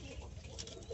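Pigeons cooing softly in a loft during cold weather, low murmuring calls continuing steadily through the moment with no talk over them.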